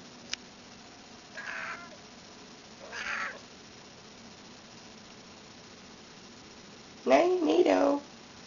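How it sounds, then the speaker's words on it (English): A few short, soft meows come from a cat, spaced apart with quiet gaps, ending in a louder, drawn-out meow near the end. "There's Nato. Meow."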